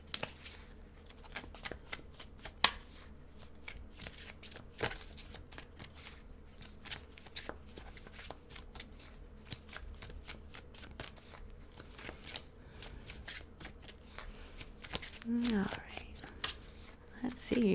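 A deck of tarot cards is shuffled close up in a steady riffle of crisp, rapid card flicks that continues throughout, with faint whispered talk underneath.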